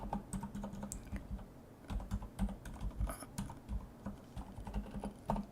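Steady typing on a computer keyboard at close range, quick irregular key clicks and presses in short bursts with no talking.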